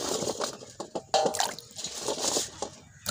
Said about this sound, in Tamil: இந்த ஆதண்டங்காயெல்லாம் அலசி எடுத்துக்கிறோம்